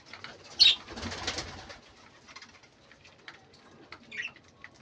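A pair of pigeons coo softly while feeding each other, with a brief flutter of wings, low murmuring coos and a few faint chirps, close by and calm.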